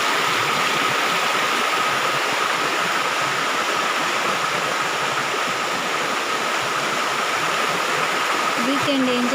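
Tada waterfall pours in a steady, loud, unbroken roar of rushing water, close by and constant throughout, with a faint tonal whine near the end.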